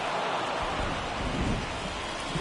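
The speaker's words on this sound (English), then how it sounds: "the field's not going to be able to hold up if the rain gets any worse than this" Heavy rain pours down on a baseball field as a steady, loud, dense hiss with a low rumble underneath, unbroken for the whole stretch.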